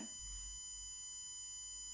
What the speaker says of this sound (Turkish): Yani buzzer'dan 1000 frekansında bir ses alıyoruz